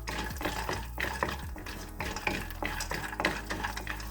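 Cashews, a 50-gram cupful, roasting in a pan for carrot halwa, with repeated scraping and clinking strokes of a spoon against the metal over a steady low sizzle, close and moderately loud, no talking.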